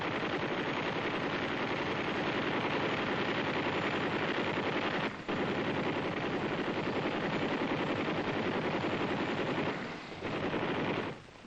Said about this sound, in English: The gunner co-pilot aims and fires through a movable type sight with a trigger set in the handle.